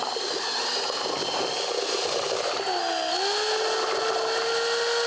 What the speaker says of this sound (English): So this is a better mixer for me. It spins it this way instead of possibly up or down.